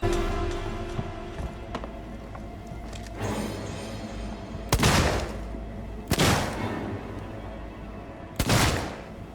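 Revolver shots in the sci-fi horror game Alien Isolation, three loud sharp single blasts spaced a second or two apart over a murky, humming ambient background while fighting androids.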